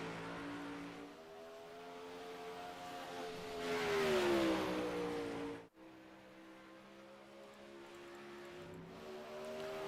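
A race car engine drones steadily as the car drives onto a speedway at a weekly summer series race night, its pitch climbing and peaking loudly around mid-clip, then briefly dropping out before the engine hum resumes.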